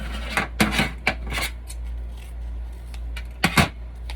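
Scissors snip open small packets for an elephant toothpaste science experiment, giving a few short, close cutting and crinkling sounds in two clusters separated by a steady low hum.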